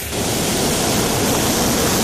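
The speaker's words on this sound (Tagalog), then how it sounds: "Makikita nyo naman ang alon ngayon." Ocean surf at Baler, a loud, continuous roaring wash of breaking waves that swells in within the first moment and stays dense and close, with no speech.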